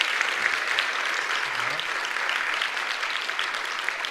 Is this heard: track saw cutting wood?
no